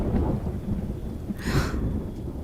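Rain falls steadily with a low rumble of thunder underneath, and a brief louder burst of rain or wind surges midway before settling back to a constant patter.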